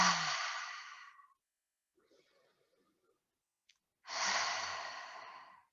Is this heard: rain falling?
no